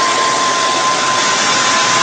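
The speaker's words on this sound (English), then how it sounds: "Pardon the hair dryer noise." Hair dryer on its high setting, used to dry paint on a purse being redecorated, giving a loud, steady broadband whoosh with a faint constant whine throughout, no voices.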